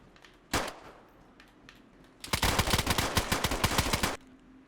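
Automatic weapon fire in the DayZ video game: one sharp shot, then a rapid burst of about a dozen loud, evenly spaced rounds lasting nearly two seconds, over quiet background.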